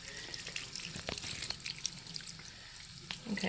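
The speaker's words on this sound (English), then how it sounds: "Rinse it clean." Running water from a tap splashing over hands as body wash is rinsed off, a faint steady hiss with small irregular splashes throughout.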